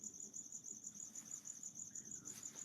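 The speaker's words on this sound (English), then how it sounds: "All I hear is crickets." Crickets chirping in a continuous, steady high trill, quiet and unbroken with no other sounds.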